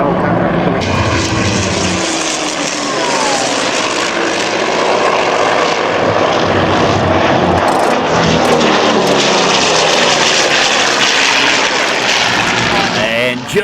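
A Grumman Tigercat, a twin-engine piston warbird, flies at a seaside air show near Folkestone, its loud, sustained propeller and engine roar filling the whole stretch with shifting pitch as it passes.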